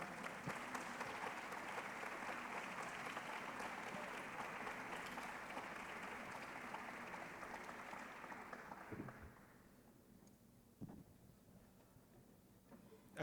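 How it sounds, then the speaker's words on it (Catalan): A concert audience applauds the Orquestra de Cambra de Vic with steady, dense clapping that holds for about nine seconds and then fades away, leaving a quiet room broken by a couple of isolated knocks. "Un fort aplaudiment per ells, sisplau."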